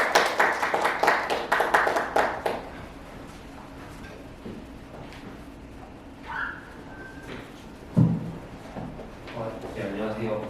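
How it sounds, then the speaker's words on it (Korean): Brief burst of audience clapping at a startup networking day, welcoming a speaker to the stage; it rings loud for about two seconds, then fades into a quiet room with scattered small noises. "큰 박수로 맞아주시기 바랍니다."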